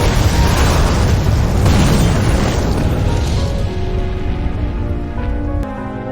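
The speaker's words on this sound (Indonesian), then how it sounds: "Hingga akhirnya terjadi ledakan maha dahsyat yang melenyapkan mereka semua" A grenade goes off inside a car in a war film, a loud, rumbling explosion with a long, roaring decay and debris noise that fades into a low, tonal film score.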